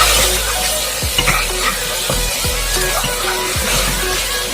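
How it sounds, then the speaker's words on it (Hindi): Mutton frying in oil with onions in an Indian kitchen, a loud steady sizzle with a few soft stirring scrapes and low knocks of the spoon against the pan. "तेल और प्याज में अच्छा से फ्राई करने होता है, भुना ही होगा"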